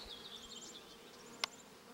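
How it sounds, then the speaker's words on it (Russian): Bees buzz steadily around blackberry bushes in a garden, a thin close hum that drifts in pitch as they fly near, with one brief sharp tap partway through. "Пчелки активно работают."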